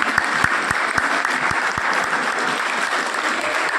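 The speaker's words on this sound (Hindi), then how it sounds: "आप सभी उनके सम्मान में तेज आवाज में ताली बजाएं ताकि इनको लगे कि हमने कुछ काम किया है" An audience at a Vishwakarma Jayanti honour ceremony applauds loudly, with a dense wash of clapping and a few sharp, distinct claps standing out early, sustained throughout without speech.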